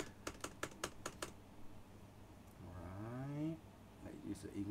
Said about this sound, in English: I like the keyboard because it's clicky